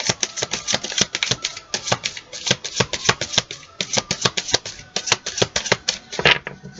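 Petit Lenormand fortune-telling cards being shuffled by hand, a quick run of crisp papery flicks and taps close up, steady and rhythmic for several seconds.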